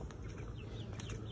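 Hens and little chicks in a backyard coop, soft low clucking and faint chirps over a steady hum, quiet and close.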